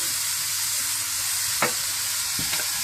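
Ingredients for Chinese rice fry in a hot pan with a steady, close hiss and sizzle, broken by a few short clinks or stirring knocks toward the end, and no talking.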